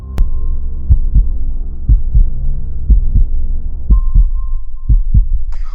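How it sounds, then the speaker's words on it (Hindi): A loud, close heartbeat thumps in a steady double-beat rhythm, with about a dozen low thuds over a faint tonal hum. A brief high tone runs along in the background and no one talks. "हम दोनों को अपनी दिल की धड़कने की आवाज साफ साफ सुनाई दे रही थी।"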